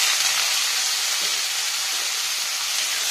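Potatoes frying in oil in a pan with radish greens being stirred in, a steady close sizzle and hiss with faint stirring scrapes, no talking.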